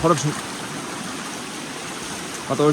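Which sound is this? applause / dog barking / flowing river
flowing river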